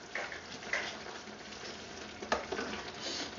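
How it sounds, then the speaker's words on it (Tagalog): Mussels and vegetables in coconut milk, Filipino ginataang tahong at gulay, sizzle and bubble in a pan as they are stirred, with a soft continuous simmer and a few sharper scraping bursts, no talking. "Give it a stir."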